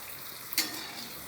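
Onion and potato fritters frying in hot oil, a steady soft sizzle with one brief louder splash midway, faint and close.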